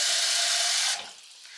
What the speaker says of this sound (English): what I'm going to do is add clear water to my jar